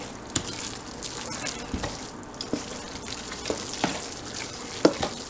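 Cornbread dressing with rosemary and thyme being stirred in a pan, a continuous wet scraping and sizzling texture with small clinks of the spoon at irregular intervals.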